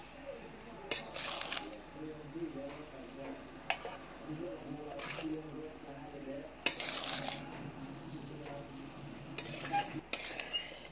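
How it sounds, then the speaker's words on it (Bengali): A metal spatula scrapes and clinks in a pan while fried rice is mixed, with sharp, irregular clinks spread through a quiet background and a steady high insect-like hiss. "এবার এটাকে ভালোভাবে সব ওগুলোকে ভালোভাবে রাইসের সঙ্গে মিশিয়ে দেবে"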